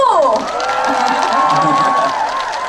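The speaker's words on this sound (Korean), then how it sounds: "더 힘내라고 박수!" A studio audience at a Korean variety show cheers and claps, a loud, dense crowd roar with whoops that keeps going without a break, close and filling the space.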